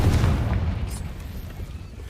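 Spell explosion in the Hogwarts Legacy video game: a deep, rumbling boom that fills the clip and slowly fades, loud and close.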